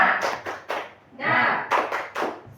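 A group performs the rhythmic 'tepuk semangat' spirit clap in a school training session, with bursts of clapping alternating with voices chanting in time.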